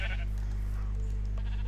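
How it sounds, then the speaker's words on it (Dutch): Sheep bleating in the Minecraft Aether mod, a short bleat at the start over a steady low game hum, with fainter blips later. "Schapen, help."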